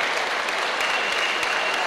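Applause from a packed audience at the Superbody 2009 bodybuilding show, a dense steady roar of clapping that fills the hall throughout without a break.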